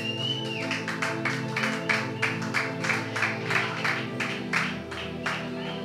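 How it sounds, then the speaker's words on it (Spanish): A church congregation claps in a steady rhythmic beat, about two claps per second, over sustained organ or keyboard music during a Spanish-language service, moderately loud and even. "Denle una ofrenda de aplauso y siéntese"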